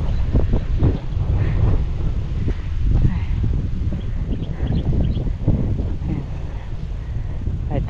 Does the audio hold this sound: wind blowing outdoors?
yes